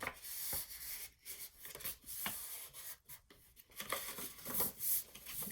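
Paper being folded and creased along a 2-inch mark to form the bottom of a homemade treat bag, heard as close, soft rubbing and crinkling strokes in an irregular rhythm with no talk.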